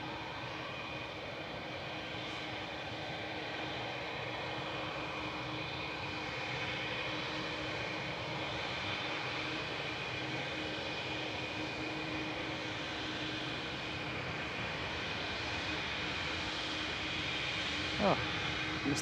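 A Virgin airliner coming in to land at Manchester Airport, a distant and fairly faint engine drone that stays even and broad, with a soft tonal hum running through it and a brief knock near the end.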